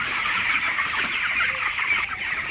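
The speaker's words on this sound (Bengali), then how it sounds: "আমার ব্রয়লার মুরগিগুলা মাশাআল্লাহ কতটা ভালো আছে" Broiler chickens clucking steadily in a dense, continuous chorus, close by and fairly loud, with no voices.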